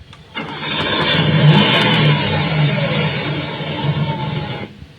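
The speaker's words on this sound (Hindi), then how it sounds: "स्टार्ट होता है तो कार का जो स्टार्टिंग जो साउंड होता है वो इस पर मिल गया है" A WUF-U1038 Bluetooth car speaker plays a car engine starting effect on power-up: a sudden crank into a rising rev, held loud and close for about four seconds before cutting off cleanly.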